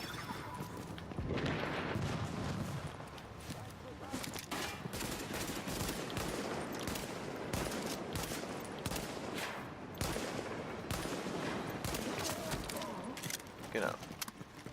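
Rapid gunfire from a weapon in the video game The Division, with bursts of sharp, clustered shots crackling across the whole stretch, mixed with game effects and a voice talking over it.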